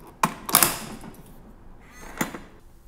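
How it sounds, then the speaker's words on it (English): A smart digital lock door is shut firmly, giving a few sharp clunks and latch clicks, with a later single thud, all close and distinct against a quiet room. "you will need a little more strength to close the door. This means that the sound is going to be quite obvious."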